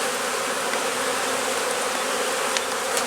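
Honey bees buzz steadily in an open top box of a hive during a walk-away split inspection, a dense, continuous drone close by, with a few faint clicks and no talking.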